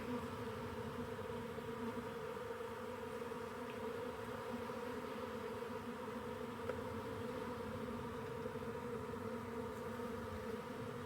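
Honey bees hum in a steady, dense drone around brood frames of capped eggs and larvae held up from an opened hive, the buzzing close and continuous throughout.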